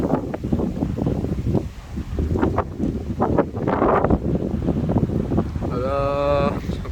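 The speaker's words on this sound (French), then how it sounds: "Putain, ça siffle dans les câbles du train, là, dans les caténaires." Storm-force foehn wind gusts roar and whistle through overhead train catenary cables, a steady loud rushing with rising gusts and a sustained whistling tone near the end, while someone talks over it.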